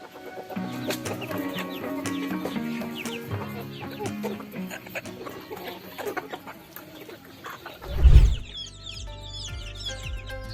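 Ayam Cemani chickens clucking amid steady background music, with a brief loud thump near the end followed by a lighter, more open scene.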